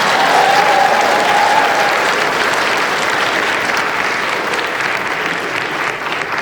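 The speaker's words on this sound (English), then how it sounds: "Everyone give Ziba a round of applause." An audience at a PAX East 2020 panel claps, a loud, dense wave of applause from a large crowd that holds steady and slowly tapers, with a faint tone briefly audible early on.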